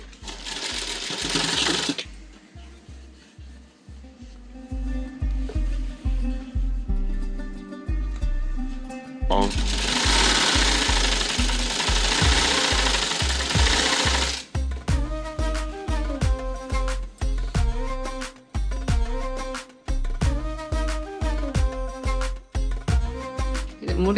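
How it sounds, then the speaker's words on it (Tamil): A sewing machine stitches blouse fabric at a quarter-inch seam allowance, running in loud rapid bursts of rhythmic needle clatter with short pauses between runs, close up and dominant throughout. "வச்சுட்டு இந்த ஒட்டில் ஒரு 1/4 இன்ச்சு கேப்லேயே தான் தைக்கணும்"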